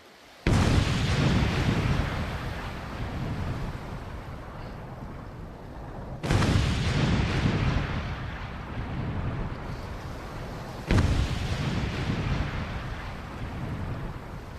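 An anti-tank mine detonates under a working vehicle in a demolition test, heard as three separate sudden loud blasts, each followed by a long rumbling roar that slowly fades.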